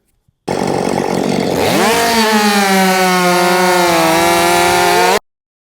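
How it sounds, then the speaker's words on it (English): A 50cc Husqvarna 550 XP Mark II chainsaw starts up and revs to a loud, rising, high-pitched scream, then holds a steady full-throttle wail for several seconds before cutting off abruptly. "that right there was my 50cc, my Husqvarna 550 XP Mark Deuce"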